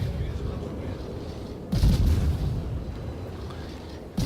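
Naval guns fire in a World of Warships battle, a heavy booming salvo breaking through a low rumbling background partway through and fading into steady noise.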